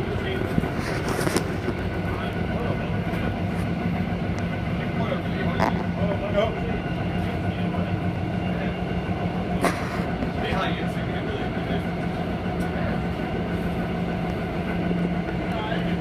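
A moving passenger train's steady rumble and rolling hum fill the cabin throughout, with occasional faint clicks and knocks, while people talk over the noise.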